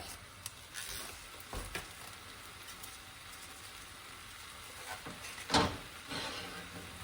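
Ground turkey and Italian sausage browning in a pan for lasagna, a soft steady sizzle throughout with occasional louder scrapes and stirring clatters, no talking.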